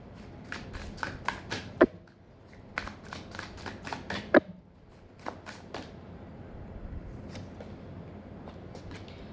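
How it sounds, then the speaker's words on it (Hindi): Tarot cards being shuffled and drawn from the deck, with a rapid series of crisp, close card snaps and slides in bursts, then a quieter stretch of occasional flicks. "यहाँ से कुछ कार्ड्स निकालते हैं"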